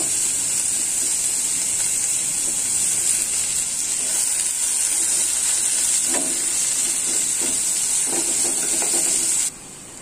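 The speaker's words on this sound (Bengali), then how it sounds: "ভালো মতো পেঁয়াজ কেটে ভাজে নেব।" Sliced onions fry in a pan, giving a steady close sizzle and hiss throughout, with a few soft clinks of stirring near the end before the sizzle drops away abruptly.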